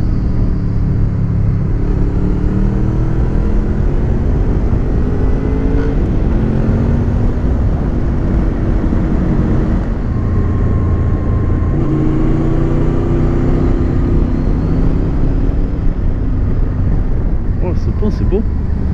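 A motorcycle rides a winding road on the Puy Mary mountain, its engine a steady close rumble with rising and falling tones through gear changes, wind roar throughout and a voice talking over it.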